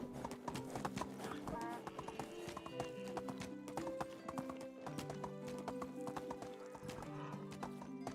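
Horse hooves clip-clop in a steady, busy rhythm in the medieval village game Medieval Dynasty, layered with a whinny and game music, fairly quiet overall with no talking.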